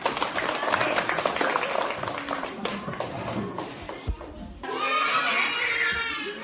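A burst of clapping from a group, loud at first then fading, with a brief thump and some chatter near the end.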